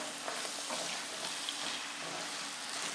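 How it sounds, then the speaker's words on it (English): Garlic sizzles and fries in a hot pan alongside onion, sweet pepper and jalapeño, a dense, steady hiss with soft crackles heard close and alone without talk. "Now I can add my garlic. That's sizzling away."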